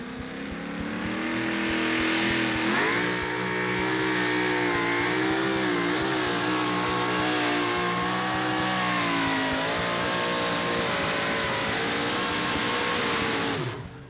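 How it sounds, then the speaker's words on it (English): A pulling truck with a brand new 572 Rodeck engine roars at full power at a 1987 truck and tractor pull at the Nashville, Tennessee state fairgrounds, a loud steady engine drone whose pitch dips and climbs throughout. "Lyons put in a brand new 572 Rodeck prior to this weekend."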